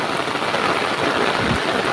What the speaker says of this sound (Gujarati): તો મિત્રો વાતાવરણમાં આજ ભૂકા કાઢી નાખે એવો વરસાદ પડી રહ્યો છે